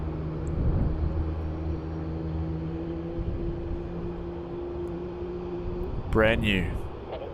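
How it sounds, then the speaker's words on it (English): An Airbus A220 airliner landing on runway 16 at Melbourne Airport gives a steady engine drone at moderate distance, with a brief spoken comment near the end. "The A220 arriving in on runway 16."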